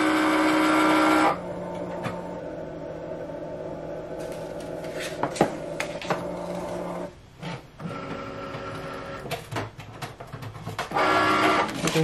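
Cricut cutting machine scoring a paper planter label with its scoring wheel, a steady mechanical whir with carriage movements and small clicks, louder bursts at the start and end, no talking.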